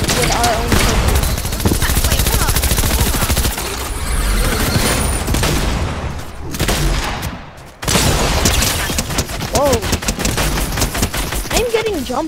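Video game gunfire: rapid, loud bursts of automatic shots and scattered single cracks, continuous and close, with players talking excitedly over the shooting.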